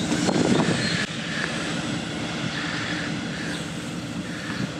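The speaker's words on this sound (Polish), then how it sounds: "Także lokomotywa się właśnie rozgrzewa, którą pojedziemy." A narrow-gauge railway locomotive warms up at a Pogorzelica station depot, a steady engine rumble and hiss with a louder burst at the start, close and continuous without talk.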